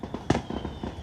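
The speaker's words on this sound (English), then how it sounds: "I'm gonna show the fireworks." Fourth of July weekend fireworks, one sharp burst followed by a few faint crackles and pops, heard from a distance against quiet background noise.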